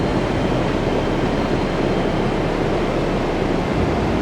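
Surf rolls onto a beach in a continuous, dense roar, loud and close, with wind and no voices.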